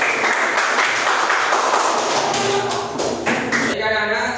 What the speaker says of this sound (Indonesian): Kalau saya ngomong tepuk 1, kamu tepuk 2.